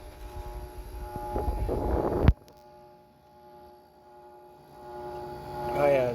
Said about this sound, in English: You can hear it going, make that noise, that whirling sound.